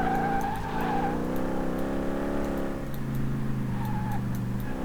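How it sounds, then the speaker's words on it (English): In Car Mechanic Simulator 2018, a car drives with some wheel spin, its steady engine drone carrying layered harmonics and a faint tire squeal near the start, continuous and fairly loud with no talk. "Yeah, this thing definitely does handle a lot better. The amount of wheel spin I had before is almost gone."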